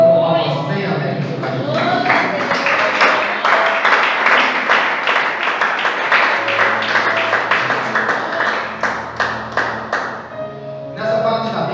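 A seated congregation at a Friday evening church service claps joyfully in praise, rhythmic hand claps running steadily for about eleven seconds under singing voices, then thinning out near the end.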